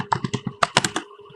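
Quick burst of about a dozen keystrokes on a computer keyboard while typing Java code, close and crisp in an uneven rhythm, alone without talk.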